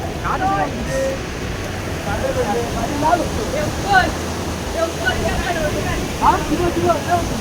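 Continuous broadband rush of water from the Vyagreshwar falls at Manche in Devgad, heard up close, with scattered faint voices and short tonal sounds drifting over the steady roar.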